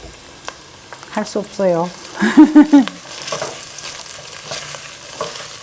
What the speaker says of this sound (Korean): 여기 볶으면서 여기 기름을 먹으면서 고추를 여기 넣고 볶아야 돼